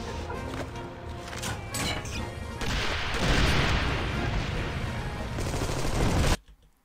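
Machine gun fire rattles in Armed & Dangerous as loud, sustained automatic bursts with booming impacts, running for several seconds before cutting off abruptly.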